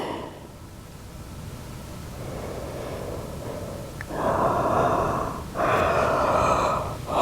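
Deep breathing during a slow yoga flow: a soft, hushed inhale builds gradually, followed by two louder, breathy exhales, close and unaccompanied by talk.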